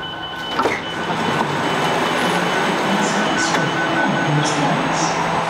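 An SJ X2000 train travelling towards Stockholm City, heard as a steady, loud rumble of rail running with faint squeals and clicks, continuous throughout with no talk.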